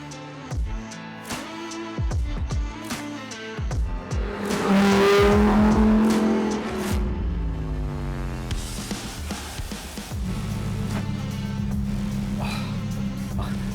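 Lamborghini Huracan STO, a rear-drive mid-engined 640 hp car, revs hard with rising engine sweeps, tire squeal and a loud, close roar that settles into a steady drone.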